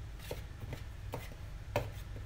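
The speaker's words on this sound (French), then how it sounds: "Alors je vais mélanger avec une petite cuillère" Small spoon stirring flour, salt and cinnamon in a bowl: soft scraping and tapping strokes at an irregular rhythm, quiet and close, over a low background hum.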